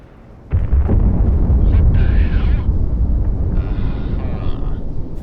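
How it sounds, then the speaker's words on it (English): A flashbang-style explosion in the Project Wingman flight combat game, a loud sudden blast that swells into a sustained roaring rumble with jet engine noise, over a few seconds. "Flashbang, flashbang, flashbang incoming."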